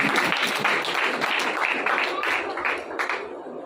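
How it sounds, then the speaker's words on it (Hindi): A crowd at a Christian worship service breaks into sustained applause, a steady wash of clapping with voices audible underneath, fading slightly at the end. "मैं चाहूंगा कि जोरदार तालियां यीशु के नाम के लिए"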